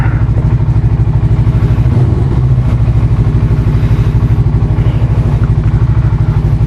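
A motorcycle engine idles before a warm-up ride, a loud, close, steady low rhythmic throb with a brief clunk partway through and nothing else over it.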